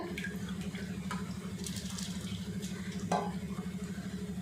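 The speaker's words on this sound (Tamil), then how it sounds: "ஒரு கிளறு கிளறி விட்டணும் இப்போ இது நல்லா கொதிக்கட்டும்" Rice boiling in water bubbles and churns with a steady rhythmic texture and occasional scraping stirs, close by and continuous, no talking.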